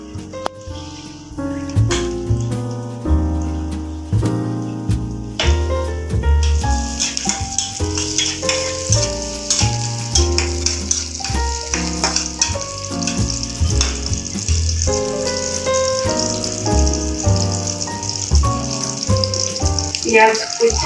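Chopped garlic, from one large bulb, dropped into hot oil and frying, a steady hissing sizzle that swells after a few seconds and continues under background music.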